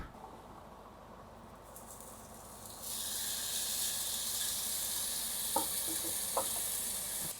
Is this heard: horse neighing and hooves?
no